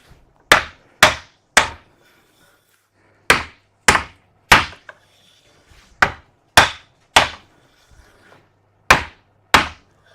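Repeated blows of a heavy hammer on a block of wood during garden gate joinery work, loud close knocks in quick groups of two or three separated by brief pauses, with faint shuffling between them.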